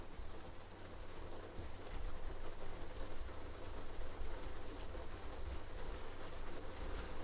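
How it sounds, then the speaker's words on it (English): Steady, dense hiss of heavy rain drumming on a roof, continuous and fairly loud throughout with no voices. "That is the sound of pouring rain on the roof"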